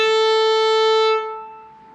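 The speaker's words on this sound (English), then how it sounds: "we draw the hair across the strings, and it grabs them and causes them to make a sound" A violin is bowed with a rosined horse-hair bow, one sustained bright note held for about a second and then fading out as the bow stops, up close and alone.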